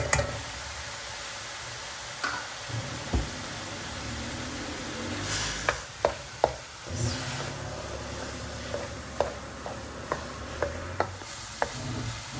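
Salted lamb meat, over a kilo, frying in a pan for lasagne: a soft continuous sizzle broken by scattered scrapes and knocks of a stirring utensil, with no one speaking.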